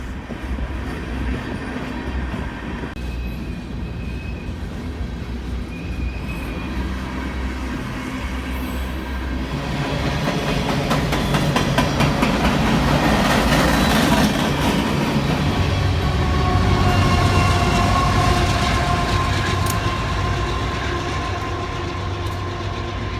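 Union Pacific freight train of hopper cars bearing Union Electric marks rolls past on a central Missouri line, a steady close rumble with rail clatter and wheel noise that swells louder midway and continues throughout.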